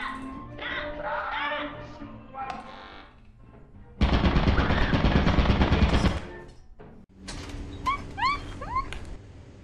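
A turret in the game Lethal Company lets off a sustained, loud burst of rapid automatic fire lasting about two seconds, set between stretches of quieter chatter and squeaky sounds.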